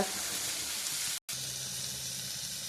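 Chili mixture sautéing in a pan, a steady, close sizzle with a hiss of frying oil that runs continuously except for a brief silent break partway through.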